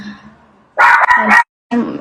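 Female dog barking in a home, two quick loud barks in succession followed by a third shorter bark after a brief pause, close to the microphone.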